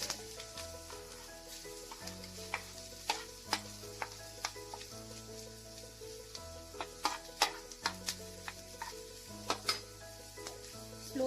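Onion frying over a slow flame in a pan for dal puri, a soft sizzle under repeated clinks and scrapes as a spoon stirs and taps against the pan.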